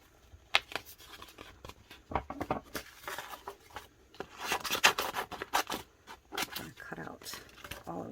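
Scissors snipping through printed vinyl wrap for a tumbler, a run of short crisp cuts with rustling and handling noise between them, close up and moderately loud.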